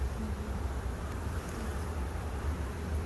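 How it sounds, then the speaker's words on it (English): Bees buzzing around pulled-apart permacomb hive frames holding drone comb and exposed larvae, a steady dense drone close by that continues unbroken without pauses. "Ooh, that one's infested with bees"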